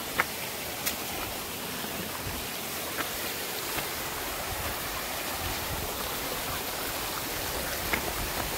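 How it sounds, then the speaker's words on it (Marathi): A perennial waterfall in Konkan, the main fall at Dhodhavane, makes a constant broad rushing roar, even and far-spread, with a few small sharp clicks or splashes rising above the wash. "तर हा आहे मेन धबधबा आपला"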